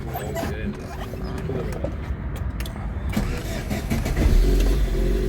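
A used car's engine starts and runs at an outdoor car market, the motor humming steadily and growing louder toward the end against busy background noise.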